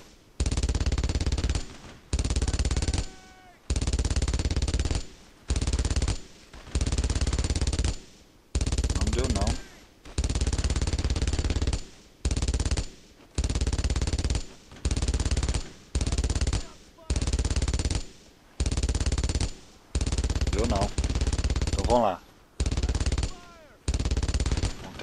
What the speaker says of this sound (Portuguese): Tentar acertar aquela metralhadora.